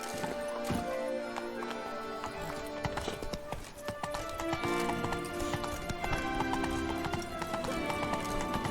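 Horse hooves galloping in The Witcher 3: Wild Hunt, a fast, close clip-clop rhythm of hoofbeats with a whinny, layered over game music and ambience.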